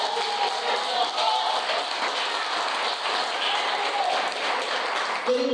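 A congregation at a church service gives a strong round of applause to the Lord, a dense, continuous wash of clapping sustained for several seconds with a crowd murmur beneath.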